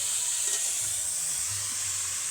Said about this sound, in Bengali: ফুলকপিটাকে ভালোভাবে ভেজে নেব